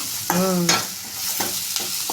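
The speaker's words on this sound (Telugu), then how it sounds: "ఒకసారి మళ్ళీ దీన్ని బాగా కలుపుకుందాం కలుపుకున్నాక వేగనిద్దాం" Tempering for a ginger-leaf dish stirred and frying in a pan, with a few scraping stirs and a steady low sizzle running underneath, close and fairly loud.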